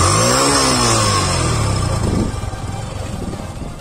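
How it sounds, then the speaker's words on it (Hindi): Yamaha FZ-S V3 DLX motorcycle running, with a loud, close exhaust note that rises on a rev, then settles into a throbbing idle. "एग्जॉस्ट की बात करें तो कुछ इस प्रकार का आता है, जो कि मैं अभी ऑन करके आपको एक बार दिखाता हूँ"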